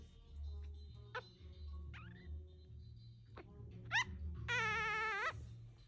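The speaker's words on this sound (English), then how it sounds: "Are you gonna growl at me?" A Pomeranian puppy growls low and continuously in a quiet room, broken by a few sharp yips and high whining squeaks.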